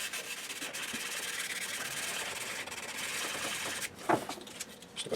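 A Les Paul guitar neck is hand-sanded with 400 grit sandpaper, cutting into the top coat; steady, soft back-and-forth rubbing runs throughout, with a few louder scuffs near the end.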